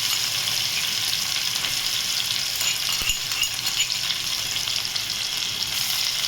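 Chopped garlic and green chilli sizzle steadily in hot oil for a vegetable dish, a dense continuous frying hiss with a brief stir or clink partway through, close and with no voices.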